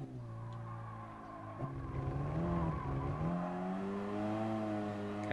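In Gran Turismo Sport, race car engines whine and tires squeal, the pitch sliding up and down as a car skids through turns at moderate distance.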